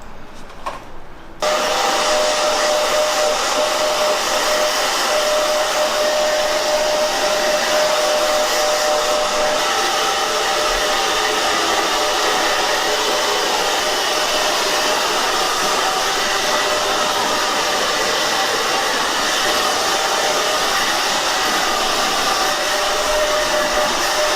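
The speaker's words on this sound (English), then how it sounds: "We're going to air dry it with the blow dryer" A blow dryer roars continuously and loudly at close range while drying hair after a keratin treatment, a steady whooshing hum with no speech.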